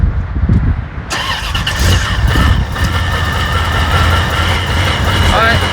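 A supercharged V8 Corvette engine cranks and fires up, then settles into a steady loud idle, recorded up close with brief talk mixed in.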